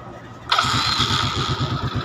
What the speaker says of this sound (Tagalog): Start natin, pindutin natin, andar yung makina natin nyo.